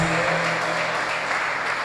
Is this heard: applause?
yes